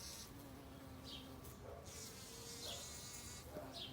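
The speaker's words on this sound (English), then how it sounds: "That black bee" A black bee buzzes among flowering garden plants, a soft, steady drone that wavers as it moves nearby, with faint outdoor ambience around it.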